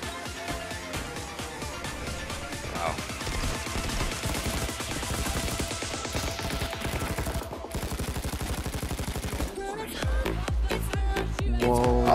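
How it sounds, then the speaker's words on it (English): Continuous rapid gunfire during a loud jewelry store heist in Payday 2, a steady stream of close automatic shots lasting throughout with a few heavier blasts near the end. "Love the sound of shooting."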